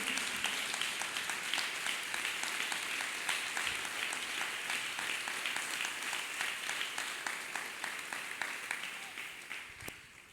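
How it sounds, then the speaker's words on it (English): A church congregation claps hands together in praise, a sustained wash of many hands with a faint rhythmic pulse, gradually tapering near the end. "let us clap our hands one more time for the deliverer in Jesus' name"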